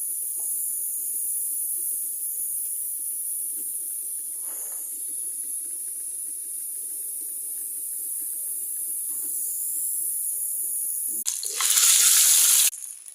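Green chilies and onions fry in a pan for an egg dish in a Bangladeshi village kitchen, giving a steady soft sizzling hiss that swells into a loud, bright burst of sizzle near the end.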